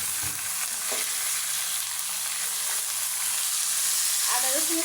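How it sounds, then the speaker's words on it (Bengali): Chicken meat fries with ginger and garlic spice paste, a steady close sizzle with occasional stirring scrapes, louder clatter near the end, no speech. "আদা রসুনের সাথে মাংসটা ভালোভাবে নেড়ে ছেড়ে মিশিয়ে নেব।"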